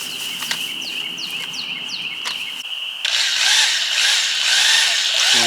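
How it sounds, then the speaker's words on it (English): A half-inch drill fitted with a paddle starts up and churns sugar syrup, a loud whirring, sloshing roar after a quieter stretch filled with bird chirps and a high whine. "we're just using a 1/2 inch drill with a paddle on it, and we're going to mix it until it's all mixed up"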